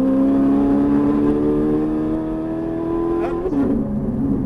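Ferrari 458 Italia engine pulling hard on a race track, a loud steady drone climbing in pitch as throttle builds, with a brief dip and shift midway before revs rise again, close and continuous throughout.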